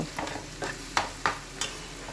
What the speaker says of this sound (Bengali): মিডিয়াম ফ্লেমে এখন এই পেঁয়াজটাকে আমি ভেজে নেব